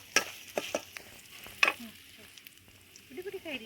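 Chili and kariyampoo (spice) frying in a pan for a kollikari (tapioca) curry, with soft sizzling under sharp stirring scrapes and clinks near the start and a louder one midway, close by.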